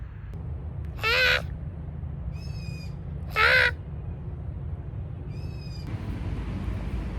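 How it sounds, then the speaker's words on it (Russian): Two loud, harsh screeches from a bird in a city park in Vietnam ring out a few seconds apart. Fainter thin chirps sit between them over a low, steady background hum. "Эта птица орет."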